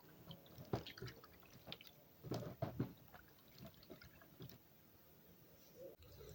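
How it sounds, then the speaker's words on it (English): Peeled cassava being washed by hand in water, with soft irregular splashes, drips and squishy sloshing up close, a few louder bursts of movement in the middle. "I'll be adding some water to it and wash them."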